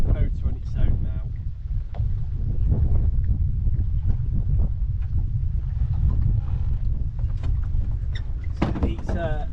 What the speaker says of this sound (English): the motor on its own now.